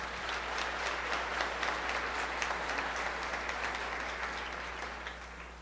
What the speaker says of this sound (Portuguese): Aplauda comigo essa palavra de Deus.